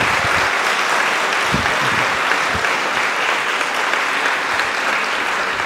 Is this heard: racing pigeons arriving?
no